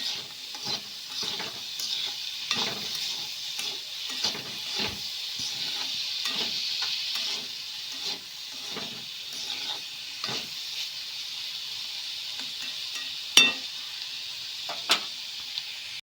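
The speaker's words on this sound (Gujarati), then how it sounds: "ગોળ ઉમેરી સારી રીતે મિક્સ કરી લઈ" Sliced bitter gourd with jaggery is stirred in a sizzling pan for a Gujarati shaak, giving a steady soft hiss broken by repeated scraping strokes, with a few sharper clinks near the end.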